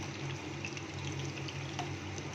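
Prawns fry in a pan with a soft, steady sizzle and faint crackles as they are turned, quiet and unbroken.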